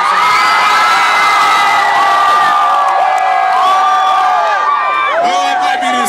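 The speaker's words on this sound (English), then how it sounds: "This is the loudest side of the crowd over here" A packed arena crowd at a Final Four basketball game cheers loudly and continuously, with shrill whoops and shouting voices rising above the steady roar.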